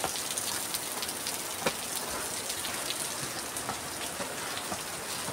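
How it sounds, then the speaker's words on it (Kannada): Steady, dense rain hisses on a mountain fort trek, an even wash of falling water with a few scattered drips and no voices. "ಇಲ್ಲೊಂದು ಫಾಲ್ಸ್ ಸೌಂಡ್ ಬೇರೆ ಕೇಳಿಸ್ತೈತೆ ಕಿವಿಗೆ, ಗುಯ್ ಅಂತ"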